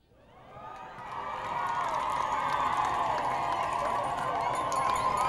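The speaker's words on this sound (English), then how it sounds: "The Pope was greeted by an enthusiastic crowd as he landed in Nairobi." An enthusiastic crowd greets Pope Francis arriving in Nairobi, a dense roar of cheering and shouting that swells in over the first seconds and then holds loud and constant.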